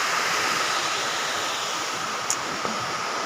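Jodumamidi waterfall near Paderu pours in a steady broad roar of rushing water, constant and enveloping, with a couple of faint brief clicks and no voices.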